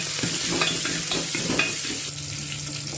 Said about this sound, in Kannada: ಈರುಳ್ಳಿ ಸ್ವಲ್ಪ ಎಣ್ಣೆಲಿ ಫ್ರೈ ಆಗಲಿ.